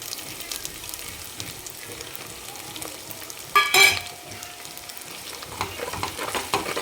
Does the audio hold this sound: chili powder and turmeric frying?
yes